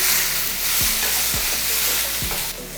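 Chopped onions and tomatoes with mint sautéing in a pan, a steady close sizzle with a few soft scrapes of a spoon stirring.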